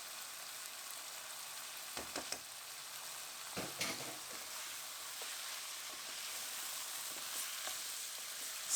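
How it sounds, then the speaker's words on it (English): Onions and beef cook together in a pot for a Bangladeshi beef tehari, giving a soft, continuous sizzle broken by several spoon knocks and scrapes as the mixture is stirred. "After a few minutes of cooking the onions and the meat together, it's time to add the salt."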